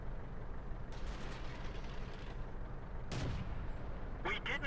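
Tank cannon fire in World of Tanks, a few sharp booming shots with rumbling tails over a low steady engine drone, separated by short gaps, fairly distant.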